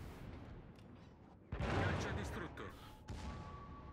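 Naval guns firing in the World of Warships video game, a sudden loud booming salvo breaking in mid-clip, then another blast near the end over a continuous rumbling battle ambience.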